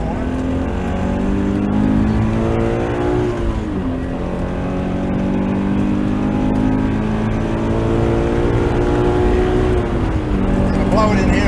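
Race car engine at steady high revs through a track lap, gear changes shifting its pitch, loud and close throughout with no speech.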